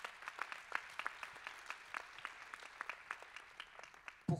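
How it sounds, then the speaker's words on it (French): Faint, scattered clapping from a conference audience at a heritage-protection forum plenary, thin and distant with uneven claps and a louder thump at the close. "je crois qu'on peut même les applaudir"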